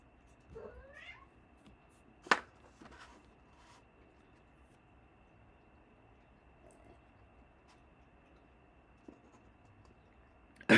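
Cat meowing indoors, a single short rising and falling meow early on, faint and close, followed by scattered clicks, a sharp knock and quiet room hiss, ending with a louder bump.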